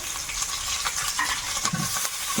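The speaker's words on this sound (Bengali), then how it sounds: "পেঁয়াজ কুচি রসুন আদা এটা ভাজা ভাজা হয়ে গেছে এবার এর মধ্যে কাঁচা লঙ্কা" Chopped onion, garlic, ginger and green chili fry in oil in a pan, giving a steady close sizzle with occasional stirring scrapes and no talk.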